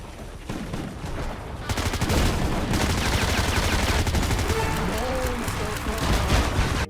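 Rapid bursts of gunfire from the mobile shooter game FRAG Pro Shooter crackle continuously, with dense automatic fire and booms layered over game music and effects.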